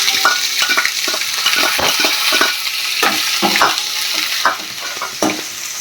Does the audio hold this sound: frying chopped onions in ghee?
yes